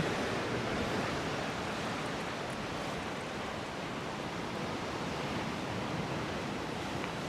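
Sea waves surging against the shore near Khao Tao cave in Hua Hin, a steady broadband wash of surf and wind noise, continuous and moderately loud with no voices.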